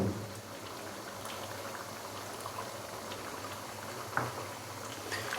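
Chicken makhni karahi simmers with a low, steady bubbling and faint popping as fresh cream goes in, close and fairly quiet with no voices.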